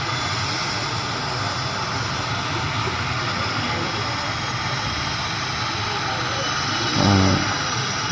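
An airplane engine starting up on one side, heard from close by, a loud, steady roar and whine, with someone talking over it.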